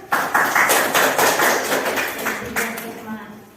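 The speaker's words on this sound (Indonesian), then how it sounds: "Kita berikan aplaus untuk kelompok 1" A group of teachers in a classroom training session applauds a presenting group. A burst of quick, scattered clapping starts abruptly, stays fairly loud, then thins out toward the end.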